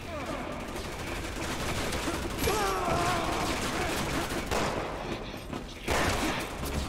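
Enemy gunfire in Resident Evil 6 aboard an aircraft carrier: a steady, dense rattle of automatic shots and impacts with louder bursts, under faint background action and game sounds.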